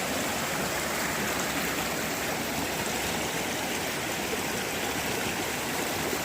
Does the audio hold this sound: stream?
yes